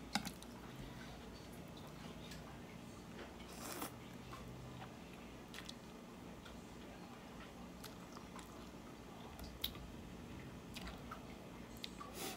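Close, quiet chewing of papaya salad with rice noodles, soft wet squishing and biting sounds repeating irregularly with occasional small clicks and faint background talk.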